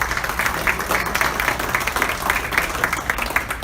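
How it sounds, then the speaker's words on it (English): A crowd at a morning community gathering with city staff applauds steadily, a dense patter of many hands held at moderate loudness for several seconds, with no clear talking over it. "Give them a round of applause."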